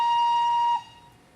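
Steam locomotive whistle of an SR Z Class engine in a train simulator game: a single steady, piercing tone held for about three-quarters of a second, then cut off abruptly into a faint fading tail.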